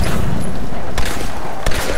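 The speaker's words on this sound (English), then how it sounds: "Distant gunfire." Distant gunfire in the video game Tomb Raider, a muffled rumbling fusillade with a couple of sharper cracks standing out over a steady noisy background.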